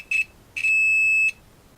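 Multimeter continuity beeper sounding while probing a via on a drop-damaged motherboard under repair: a short high tone, a pause, then a longer steady beep of about three quarters of a second, clear and close with no talk.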